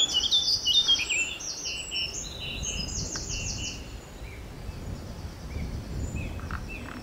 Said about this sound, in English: Black cap.